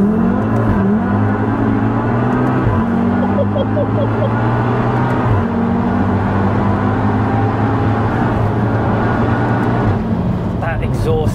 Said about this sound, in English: That exhaust tone is so good.